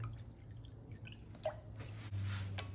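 Water is poured or dripped into a small bowl of sauce mixed from pepper powder, oyster sauce and sugar in a home kitchen, a brief liquid drip over a steady low hum, close and fairly quiet.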